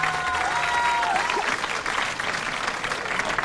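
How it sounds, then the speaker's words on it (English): A crowd claps steadily at a bully dog kennel club show, dense and sustained, with a brief whistle-like tone near the start before the clapping carries on evenly. "Let's give them a big round of applause."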